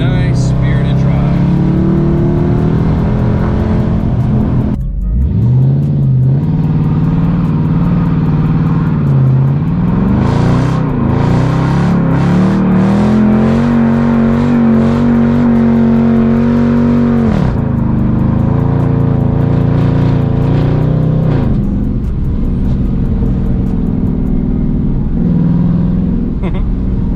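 A Dodge Charger RT drives on back roads, its engine droning loud and close, rising and falling through revs and gear changes over nearly half a minute, with brief sharper bursts of acceleration.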